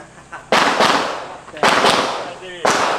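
Three loud, sharp gunshots ring out at a firing range, spaced about a second apart, each with a brief echoing tail, close by and with faint voices in between.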